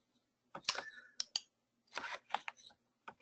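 Typing on a computer keyboard, several bursts of quiet rapid clicking keystrokes with short pauses between them, close by and with no talk.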